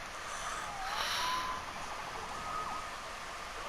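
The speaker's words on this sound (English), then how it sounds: "Saved by the siren." A faint wailing siren in the video game Spider-Man rises and falls in the distance, sweeping up and down a few times over a hissy background.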